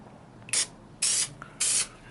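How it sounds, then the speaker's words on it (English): Aerosol spray can hissing in three short bursts onto a 2004–2008 Acura TL door panel insert, close and loud with quiet gaps between sprays. "I'm going to take this, shake it up, and I'm going to start spraying"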